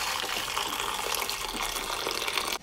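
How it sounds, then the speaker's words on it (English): Hot water gushes steadily from a container over a whole chicken in a big pan with a stock pot, a continuous close pour that runs for over two seconds and then cuts off abruptly. "Cover the chicken with hot water."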